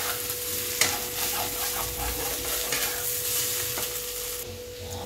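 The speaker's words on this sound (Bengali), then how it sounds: "ভালো করে নাড়াচাড়া করে এটাকে ভাজা করে দিচ্ছি" Squash fries in a pan on the stove for a Bengali vegetarian ghonto while a utensil stirs it, giving a steady sizzle broken by a few scraping strokes, with no talking.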